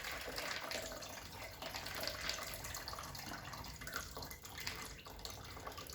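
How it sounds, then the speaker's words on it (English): Water poured out of a jar, a faint continuous trickling and splashing stream close by with small drips, no talking. "all I'm going to do is pour the water out."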